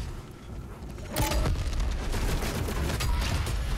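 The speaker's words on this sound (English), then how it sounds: "Let's see how many rocket launchers we can get into him." Rocket launcher fire in Doom Eternal: a loud blast hits about a second in, followed by a dense, sustained roar of explosions and chaotic combat noise with no gaps.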